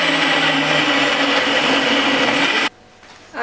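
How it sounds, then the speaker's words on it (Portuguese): A kitchen blender crushing whole tomatoes with a little water for gazpacho whirs loud and steady, then cuts off abruptly near the end, leaving a quiet room. "vamos bater no liquidificador"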